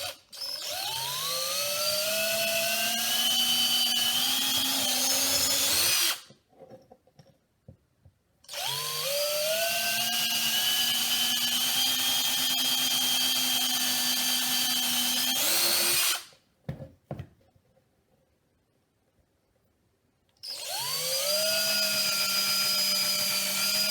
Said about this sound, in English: then you just start drilling where the marks are